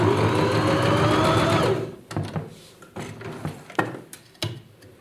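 A sewing machine stitches a seam with a loud steady whirring run for under two seconds, then stops, followed by scattered light clicks and handling knocks of fabric and thread.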